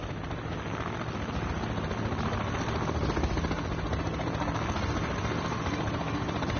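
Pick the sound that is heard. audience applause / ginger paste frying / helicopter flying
helicopter flying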